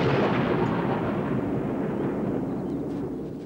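A deep, continuous rumble of thunder in Southwest Africa rolls on for several seconds, loud and broad, slowly fading toward the end with no voices.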